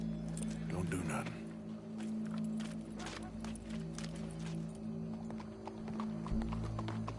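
Horse hooves clip-clopping in Red Dead Redemption 2, a steady run of close hoof knocks mixed with game sounds and bits of voice, with a brief low thump near the end.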